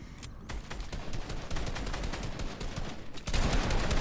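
Rapid automatic gunfire sprays in a Fortnite match as a dense, continuous burst of shots with a brief dip before a louder renewed volley. It is close and loud, with no talk over it.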